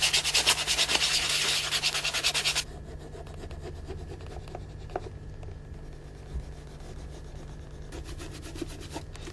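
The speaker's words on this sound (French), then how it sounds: "je vais utiliser donc le bâton de cire pour venir tracer ici la limite" A wax stick rubbed across a shoe by a cobbler tracing edge lines, a fast, loud rhythmic scratching for the first few seconds, then quieter intermittent rubbing and light scraping.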